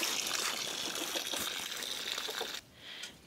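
Water gushes into a container for mixing construction mortar, a steady pouring rush that stops abruptly near the end, leaving a brief quieter trickle.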